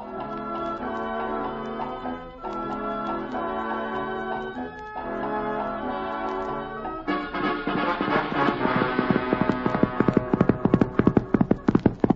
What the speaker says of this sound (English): Jack, our ruthless and yet beloved co-hand, rides up to the ranch on Reginald, the Wonder Horse